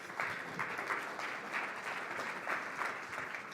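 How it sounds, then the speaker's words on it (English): Audience applause at a talk on applying blockchain, steady clapping from a seated crowd lasting several seconds at moderate level, with no voices over it. "why don't you all give a warm round of applause for Mark Lurie."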